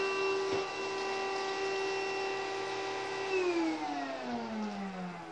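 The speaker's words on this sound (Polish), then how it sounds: "Odłóżmy odkurzacz." Close by, a Hoover Rhapsody RA22HCG cordless upright vacuum cleaner hums with a steady tonal whine, then is switched off about three seconds in, its motor pitch gliding down as it spins to a stop, with no talking.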